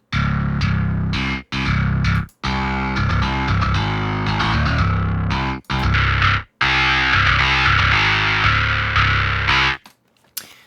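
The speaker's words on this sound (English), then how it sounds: "So we can listen to how the 3 different drive modes sound." Electric guitar played through an Aurora DSP amp simulator, cycling through three drive modes: loud, sustained distorted chords and riffs broken by short pauses, no voices, ending in a brief fade.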